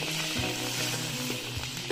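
Scallions stir-frying in hot oil in a home kitchen while making Xuzhou-style pot chicken give off a continuous bright sizzle, with a tonal melody running over it throughout.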